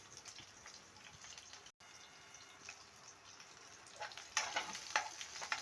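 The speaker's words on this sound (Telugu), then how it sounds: "అన్నీ మంచిగా ఫ్రై చేసుకోవాలి ఆయిల్లో." Onion and green chillies fry in hot oil, giving a steady close sizzle with scattered crackles that swell into louder spitting bursts near the end, with no voices.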